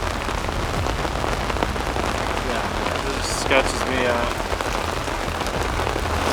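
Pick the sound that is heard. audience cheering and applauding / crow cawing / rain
rain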